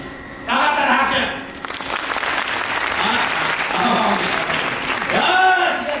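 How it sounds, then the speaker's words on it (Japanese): An audience at the Universal Monsters Live Rock and Roll Show at Universal Studios Japan claps in sustained applause for several seconds, while a performer talks over it. "頑張ったら拍手。"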